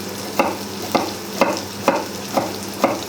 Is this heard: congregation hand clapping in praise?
no